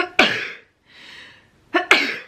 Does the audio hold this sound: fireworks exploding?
no